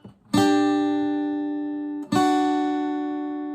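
Two guitar strums ring out one after another, each a sustained chord that slowly decays, played alone with no talking.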